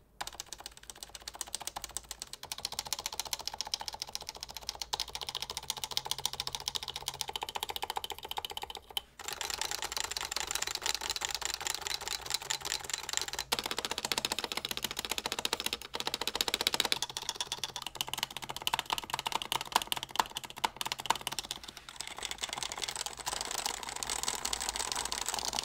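Steady, continuous typing on a lubed HHKB Professional Hybrid keyboard, dense keystrokes running throughout at a constant close-up level with brief pauses, no talking.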